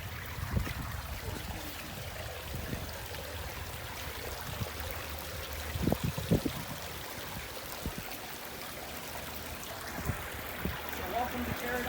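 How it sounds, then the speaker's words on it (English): Water spilling over the four drops of a pondless waterfall in a food forest pollinator garden in Hermosa Beach, a steady, close rushing splash with a few louder gurgles. "This is our pondless waterfall, and one of the nice things about this is we've got 4 drops here overall."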